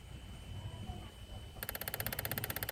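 A faulty EVAP purge solenoid on a 2013 Chevrolet Impala clicks in a fast, steady rapid-fire series, starting after a stretch of low engine-bay rumble and continuing close and distinct to the end.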